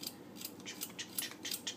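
Knife slicing salad ingredients for a salad with tarragon dressing, a quick run of crisp rhythmic cuts about five times a second, close and quiet with no talking.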